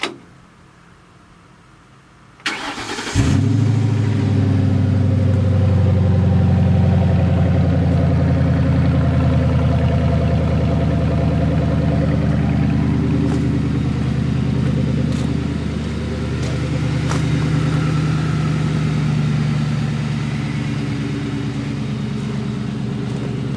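A 1966 Ford F250 truck engine cranks and catches after a brief silence, then settles into a steady, loud, close idle with a deep rumble that holds for the rest of the clip, slightly easing near the end.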